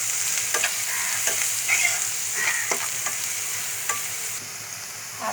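Pointed gourd is stirred in hot oil with turmeric and spice powder, a bright continuous sizzle with regular scraping strokes of a spatula, close and fairly loud, no voices.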